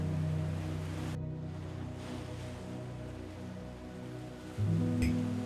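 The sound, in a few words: waves lapping against the shore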